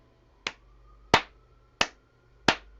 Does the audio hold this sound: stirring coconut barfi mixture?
no